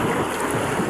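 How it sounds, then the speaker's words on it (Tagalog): Big sea waves wash and churn around a moored fishing boat, a steady broadband rush of water and wind that stays loud and unbroken with no voices. "laki ng mga alon guys"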